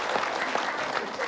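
Audience in a televised Islamic religious lecture claps together on cue, a steady dense round of applause lasting just over a second.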